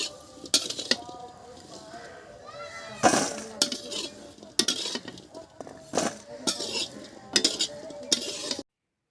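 Kumhrauri fry in a hot kadhai in mustard oil, a soft sizzle under repeated sharp clinks and scrapes of a metal spoon stirring against the pan, with a faint voice briefly audible.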